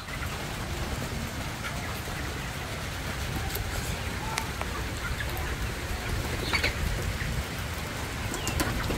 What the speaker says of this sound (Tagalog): Umulan po talaga.